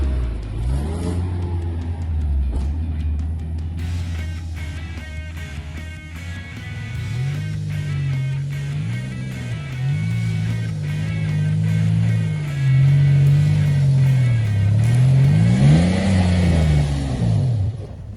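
A four-wheel-drive vehicle limping home in two-wheel drive after trail damage, its engine humming and revving steadily up and down over rough off-road tracks, loud and close throughout with no talk.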